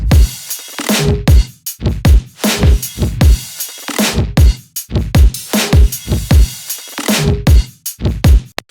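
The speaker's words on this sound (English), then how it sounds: "So the drums sound like this." A fat, roomy acoustic-style drum groove with punchy kicks and snares ringing out in a spacious room, repeating a steady pattern without any talking.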